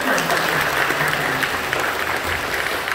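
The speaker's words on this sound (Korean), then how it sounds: "더 뜨겁게 박수 해주시죠." Steady applause from a church congregation celebrating newly baptized members, many hands clapping loudly and evenly for a few seconds.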